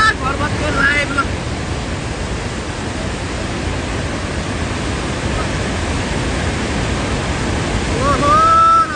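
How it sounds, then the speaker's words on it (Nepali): The Trishuli river in flood in Rasuwa, Nepal roars as a loud, steady broadband rush of churning water close by, with wind noise on the microphone and brief voices at the start and end. "टाढा कत्रो बाढी आएको यार"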